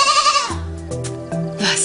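Goats bleat loudly and close by, several wavering calls in a row.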